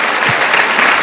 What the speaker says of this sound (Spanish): yo los dejé aplaudir porque es verdad